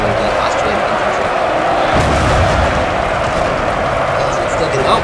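Artillery fire in a 4-way siege battle video game between Austria and Denmark: continuous rumbling cannon fire with a heavier boom about two seconds in, playing loudly under a voice.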